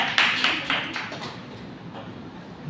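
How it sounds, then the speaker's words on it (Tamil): Students in a classroom clap for a classmate during a Tamil language lesson; a brief burst of applause near the start quickly fades out. "ஜீவனுக்கு ஒரு பலத்த கைத்தட்டல் கொடுங்க"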